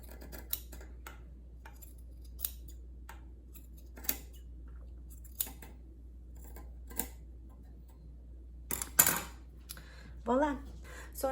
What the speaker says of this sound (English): Now let's cut the other side